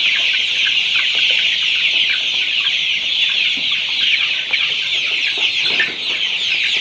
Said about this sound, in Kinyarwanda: Nkuko bigaragara harimo inkoko nyinshi zikiri ntoya.